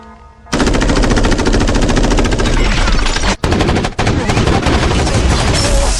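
Sustained, loud machine gun fire from a film scene, rapid continuous bursts with two brief breaks, dense and close, with no voices audible.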